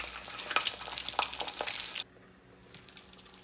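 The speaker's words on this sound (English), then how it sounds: "So I am cracking an egg. I'm going to go ahead and fry it." A cracked egg hits smoking-hot oil in a pan, loud crackling and popping spatter for about two seconds, then it settles to a faint hiss with a few scattered pops.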